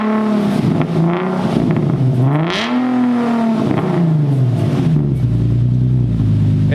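An Infiniti G37 fitted with a Tomei exhaust revs hard and close, its engine note climbing and falling through several throttle blips before settling to a rough idle, loud and continuous with no voices over it.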